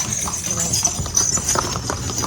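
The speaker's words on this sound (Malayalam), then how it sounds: "ഈ കുതിരവണ്ടിയുടെ സൗണ്ട് മിസ് ചെയ്യും കേട്ടോ" Horse-drawn cart on a Gili island street, hooves clip-clopping in a steady, continuous rhythm at close range over faint background ambience.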